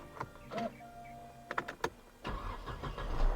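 A 2014 Toyota Corolla is started with a key: a few clicks and a brief electronic tone, then the starter cranks and the engine catches into a steady, rising idle close by.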